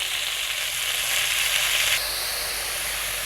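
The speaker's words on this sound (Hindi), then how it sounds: "तो यहाँ पर देखिए, चिकन हमारा भुना जा रहा है आहिस्ता आहिस्ता से।" Chicken with garlic and ginger frying in oil for a chicken tikka pizza topping, giving a steady close sizzle and hiss that swells briefly midway, with no talking.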